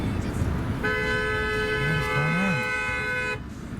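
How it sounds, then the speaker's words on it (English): A car horn sounds in one long, loud honk of about two and a half seconds amid street traffic noise, with a voice speaking briefly underneath. "That's a lot of honking, bro."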